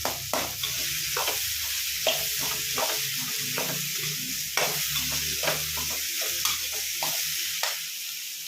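Tomatoes fry and are stirred in a pan for hotel-style keema sambar, a steady sizzle broken by repeated sharp scraping strokes of a spoon at an uneven rhythm, close and clear with no talking.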